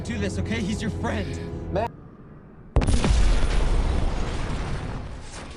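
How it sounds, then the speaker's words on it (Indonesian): A car rigged with a bomb explodes in the action film Retribution, a sudden loud, deep boom with rumbling roar that sustains after a stretch of dialogue and a brief quieter pause. "mobil Anders meledak karena juga dipasangi bom si penelepon"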